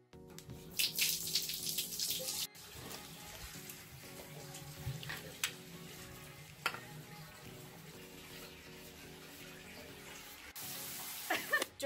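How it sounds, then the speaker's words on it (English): Water from a shower runs steadily, with a few brief pauses and changes in the flow. "during my shower"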